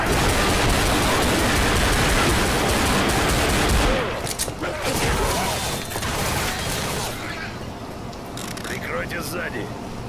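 Dense rapid gunfire in the video game Left 4 Dead rattles continuously for several seconds, then thins into scattered shots and clatter while voices talk over it.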